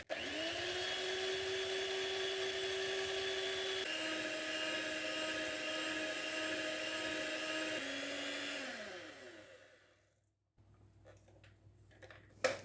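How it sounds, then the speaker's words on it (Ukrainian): An electric hand mixer whips a warmed gelatin glaze for Easter paska, a steady high whirring drone with a couple of speed shifts, then winding down and stopping, followed by faint clinks. "Зіб'ю міксером до густого стану."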